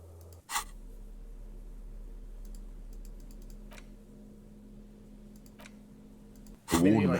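A few sharp clicks on the map screen in the video game Disco Elysium, spaced irregularly over a low steady hum, with a louder clatter at the start and end.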